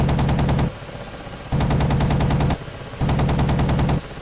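Cannon fire from a Ka-50 Black Shark attack helicopter in the DCS flight simulator, heard as three loud, rapid bursts of roughly a second each, split by short pauses and with no talk.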